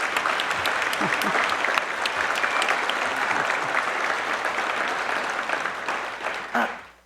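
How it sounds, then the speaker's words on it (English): A gala crowd applauds reserve officers, a loud, dense, sustained burst of clapping from many hands that holds steady for several seconds before fading quickly at the end. "can we take a minute and give a round of applause to all of the reserve officers?"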